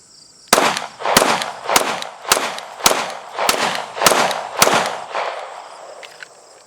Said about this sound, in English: we're gonna rapid fire the 1, then the 2